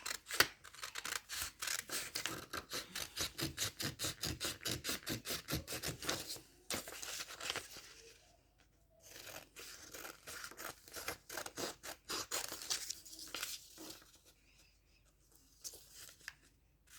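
Scissors snip repeatedly through paper along a printed line for a children's amphibian science craft, a fast, even run of close crisp cuts that pauses and then resumes in shorter bursts.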